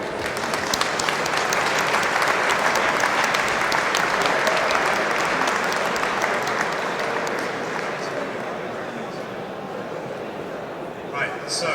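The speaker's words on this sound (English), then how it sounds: "let's have a big round of applause one more time." Sustained applause from a banquet audience at a robotics awards ceremony, dense and steady clapping throughout, easing slightly toward the end, with some voices mixed in.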